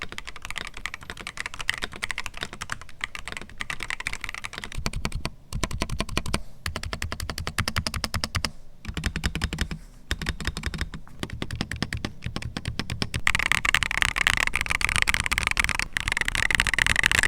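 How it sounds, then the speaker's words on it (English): Fast, continuous close-up typing on a Redragon EISA K686 HE rapid-trigger magnetic keyboard, gasket-mounted with an aluminum plate, giving dense, slightly muted clacks that run on without pause and grow a bit louder toward the end. "They sound clacky, but when paired with a stiff gasket-mounted keyboard with an aluminum plate, they sound a little quiet."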